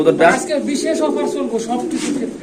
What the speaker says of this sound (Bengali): এখানে আছে এক পেয়ার মডার্ন কবুতর